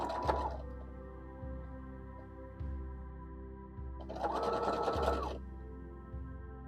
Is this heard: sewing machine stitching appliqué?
yes